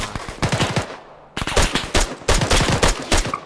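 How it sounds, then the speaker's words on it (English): Rapid gunfire from a bunker in Arma 3, with loud automatic bursts crackling in quick repeated volleys, a brief lull near the middle, then more sustained firing. "There is Contact firing from the bunker."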